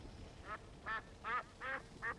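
Cartoonish duck quacks from a RimWorld game sound effect, five short nasal calls spaced about every half second at a steady, moderate level, with no speech.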